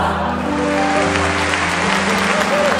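Audience applause at a speech, a steady dense clatter of clapping throughout with a voice and tonal sound carrying over it.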